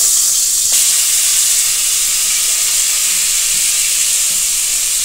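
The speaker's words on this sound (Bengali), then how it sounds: "আলুটা প্রথমে ভেজে নেবে।" Potatoes frying in oil in a pan for a home-cooked meal, a loud, dense, continuous sizzle holding steady throughout with no speech.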